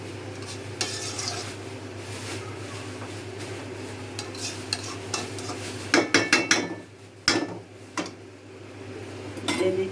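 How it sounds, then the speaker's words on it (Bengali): A utensil stirs fish curry in a pan, scraping and clinking against the metal in repeated strokes over a faint sizzle, with a cluster of sharper clanks near the end and no talking. "মাছটা দিয়ে একটু নাড়া দিয়ে দিচ্ছি।"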